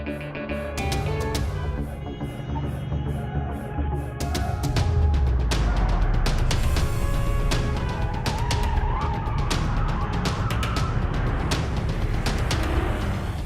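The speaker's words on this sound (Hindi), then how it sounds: "तुम गाड़ी की स्पीड बढ़ाओ" Movie-style chase effect of a car speeding with a roaring engine, then loud, extended tire skidding and squealing, sustained and close with no talking.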